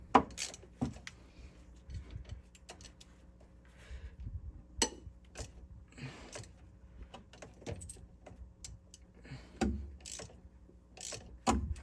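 A ratchet wrench with a 5/16 socket breaks bolts loose on a Paccar MX-13 air compressor, with sharp clicking ratchet bursts and metallic knocks in irregular spurts, close and fairly faint.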